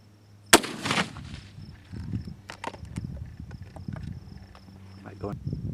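A single sharp rifle shot fired at a prairie dog on open ground near Trenton, Nebraska, cracking loudly near the start, followed by rustling and handling noise outdoors.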